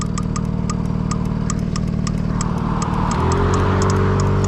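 A motorized ride-on suitcase motor straining through a hill start on a road, a steady mid-pitched buzzing drone that rises in pitch and load partway through, close and continuous with no talk.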